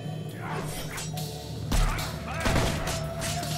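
Enemy gunfire in Fable 2 comes as sharp cracks and thuds mixed with combat whooshes and impacts, loud and close in a busy game fight.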